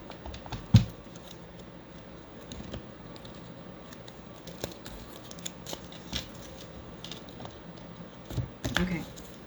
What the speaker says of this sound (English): I just realized I already shuffled these cards, so I'm doing it again